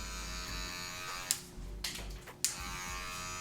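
An electric hair clipper fitted with a 1.5 guard comb, buzzing steadily at close range while cutting hair in a fade, with a few sharp clicks and brief dips as it moves through the hair.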